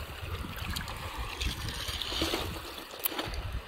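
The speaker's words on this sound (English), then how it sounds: "So, rinse them off a little bit." Water splashing and trickling as rocks, agates and unakite, are rinsed at a Lake Superior shoreline, a continuous close wet sloshing with small clacks, no talking.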